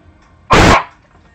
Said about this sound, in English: stop barking at the cat